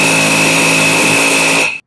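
A power tool zips off the front axle nut on a Mazda Protegé, one loud continuous high whine lasting under two seconds before cutting off abruptly, close and alone with no talking.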